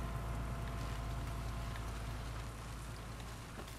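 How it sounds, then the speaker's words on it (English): Steady rain in The Last of Us Part II, set in Seattle, falls as a dense, even hiss with soft patter, a faint continuous wash with no talking. "yeah, rain."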